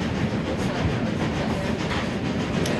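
A passenger train runs steadily on rails in Devon toward Dartmouth, a continuous loud rumble with a faint rhythmic clatter of wheels throughout, no voices.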